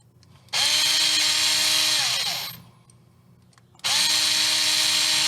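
Handheld power driver backing screws out of a 1.9 beadlock wheel ring: two loud, close whirring bursts, the first winding down before a short quiet pause and the second starting abruptly.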